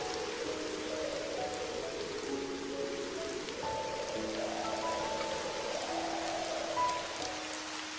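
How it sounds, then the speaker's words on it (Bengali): Steady rain falls in a village, a continuous wash of drops on surfaces that holds an even level throughout, with a soft tonal backing playing beneath it. "সেই সকাল থেকে বৃষ্টি হয়েই চলেছে"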